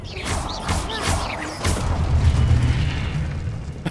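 A Confringo fire-spell explosion in a video game bursts with a heavy boom followed by a rumbling crackle that lingers for a few seconds, fairly loud.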